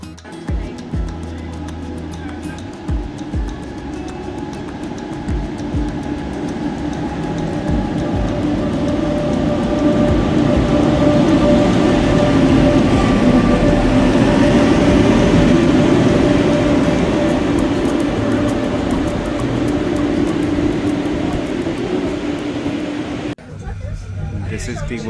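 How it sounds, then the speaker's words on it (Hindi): Golden Pass Express panoramic train travelling toward Interlaken, heard from inside as a steady rumbling rolling noise with faint rhythmic rail clatter, continuous and fairly loud for the whole stretch. "This is the Golden Pass Express from start to Interlaken."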